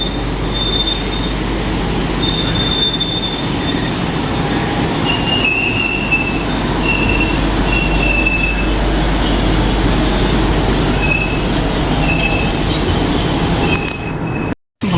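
A train pulling out of Bankura station at dawn: loud, continuous rumble of wagons with repeated high wheel squeals and metallic screeches rising over the roar, heard close by until a sudden cut near the end.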